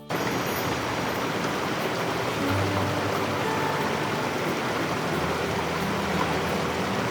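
Gagai Nala, a mountain stream in the Neelum valley of Kashmir, rushes in a steady, dense wash of flowing water, loud and close, with no voices over it.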